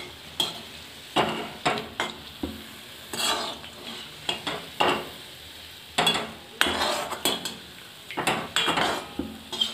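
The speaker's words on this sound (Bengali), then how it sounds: "গ্যাসটা সিম করে দিয়ে আমি এটাকে ভাজবো। তাহলে চারিদিক আমার সমানভাবেই ভাজা হবে" Fried cake cooks in a pan on a gas stove turned down to a low flame. A soft sizzle runs under repeated scrapes, taps and clinks of a utensil against the pan, with no talking.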